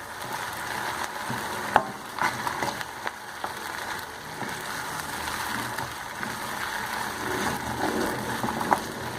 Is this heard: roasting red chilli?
yes